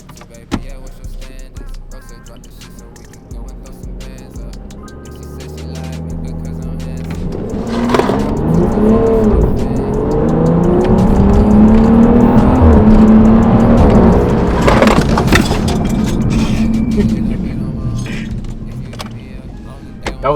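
BMW N55 engine with the muffler deleted, accelerating hard in second gear, its exhaust roar rising from a low drone to a loud raspy peak and then fading, with voices at the start.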